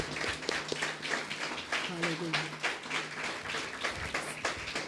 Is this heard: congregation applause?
yes